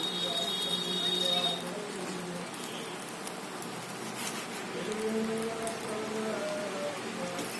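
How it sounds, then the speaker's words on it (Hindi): Egg-soaked bread sandwich frying in butter in a pan over medium flame, a steady close sizzle and crackle running throughout with faint scraping, no voices. "दूसरी साइड भी हल्का सा क्रिस्पी होने तक ही फ्राई कर लेंगे।"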